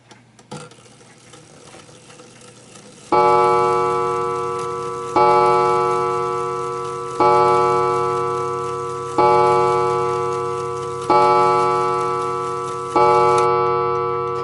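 An art deco mantel clock's hammer chime strikes six times in a slow, even rhythm, each ringing tone decaying before the next, after a moment of faint ticking and handling.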